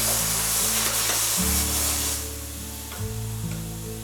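Chickpea and vegetable masala with carrots sizzles steadily in a hot pan while being stirred, a dense frying hiss with low scraping that grows a little quieter toward the end.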